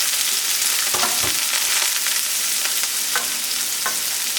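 Sliced yellow onion frying in a little oil in a medium pan over medium-high heat, a loud continuous sizzle with occasional sharp crackles and light stirring clicks.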